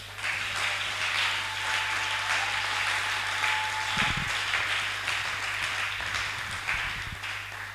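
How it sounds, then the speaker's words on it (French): A church congregation claps and cheers steadily throughout, a broad sustained wash of applause with a faint tone near the start and a few low thumps later, no speech. "est-ce que vous pouvez acclamer pour vous-même?"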